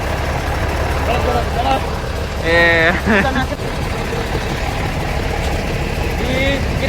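A Volvo-engined bus idles beside its exhaust pipe with a steady low rumble, heard up close while people talk over it in Indonesian.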